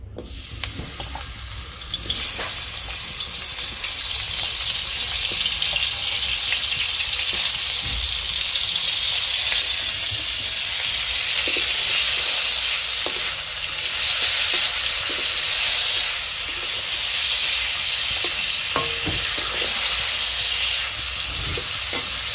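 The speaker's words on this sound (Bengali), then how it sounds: "শুটকি মাছটা একটু ভাজা করে নেব।" Dried fish sizzles and spits in hot oil in a wok over a stove, a steady, loud frying hiss that runs continuously for the whole stretch with a few small pops and scrapes.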